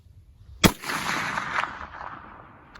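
A single sharp rifle shot from a Ruger 77/44, fired at a 200-yard target, cracks loudly and is followed by a long fading outdoor echo rolling away over a couple of seconds.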